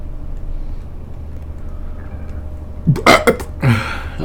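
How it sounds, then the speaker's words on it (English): A person lets out a few short, choppy burps in quick succession, then one longer throaty belch, loud and close over a steady low rumble from an idling vehicle. "That was an interesting burp."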